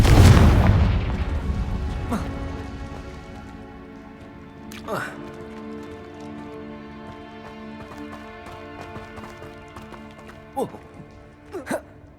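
A loud, booming Confringo spell explosion from the video game Hogwarts Legacy hits at the very start and rumbles away, followed by quieter impacts and occasional voices.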